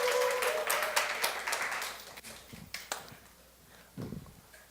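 A church congregation at a Sunday service claps, a dense burst of applause that thins out into a few scattered, separate claps and fades to quiet near the end.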